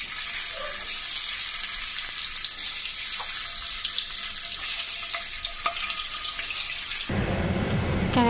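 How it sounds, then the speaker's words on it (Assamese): Beaten eggs fry lightly in hot oil in a wok for an egg curry, a loud, steady crackling sizzle with scattered pops that runs throughout and then abruptly changes near the end. "অকমান হালকা ফ্ৰাই কৰি লম মই ডিমখিনি।"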